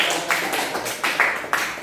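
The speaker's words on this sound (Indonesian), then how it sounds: "tepuk tangan untuk Aska" A few people clapping for a student in a school classroom training session, with several distinct nearby claps spaced irregularly over a couple of seconds, fairly faint and sparse.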